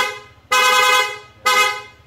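A loud, brassy aftermarket PIAA horn on a Honda ADV 150 motorcycle blares twice: a long blast of about a second, a brief pause, then a second blast cut short, over a low idling engine.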